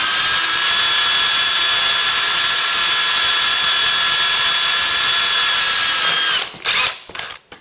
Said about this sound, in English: I'll put the pilot through these now